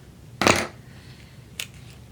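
Scissors snip through mounting tape at close range: one loud, crisp cut followed by a softer second snip about a second later, against a quiet background.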